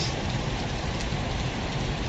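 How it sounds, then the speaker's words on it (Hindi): Steady, heavy rain pours down on a flooded railway track during prolonged monsoon downpours, a dense continuous hiss filling the whole stretch with no voices over it. "पहाड़ी और मैदानी इलाकों में लगातार हो रही बारिश से जनजीवन बेहाल है।"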